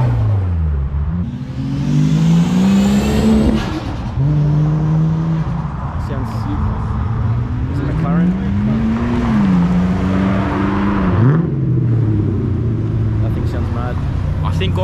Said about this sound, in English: There's a very clean S14 leaving as well now